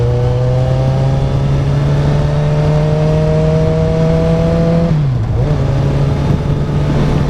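A 2013 Kawasaki Z1000 pulls hard in third gear, its engine note climbing steadily and loudly for about five seconds, dipping briefly as the throttle shifts, then droning on, heard from on the bike with wind rushing past.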